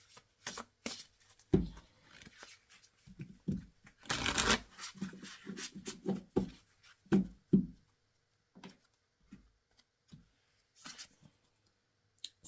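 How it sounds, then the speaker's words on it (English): Tarot cards shuffled and pulled by hand: crisp, irregular flicks and riffles that come in short bursts, with a longer rustling stretch in the middle and quiet gaps between. "let's pull some more cards."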